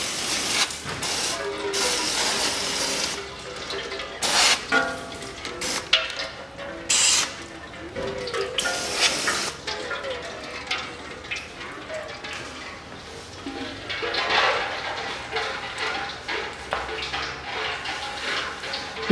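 Bursts of spraying water hiss on and off in irregular blasts, loud and close, with splashing and dripping between sprays, as a Land Rover Discovery 4's front air suspension area is rinsed off.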